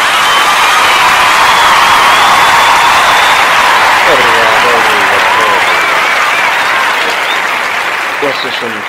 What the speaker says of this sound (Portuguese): Eu até vou pedir a vocês todos uma grande salva de palmas.